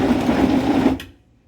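A PSIIDAN smoothie blender runs on frozen strawberries and diet soda with a close, buzzing motor whir lasting about a second before it cuts off sharply.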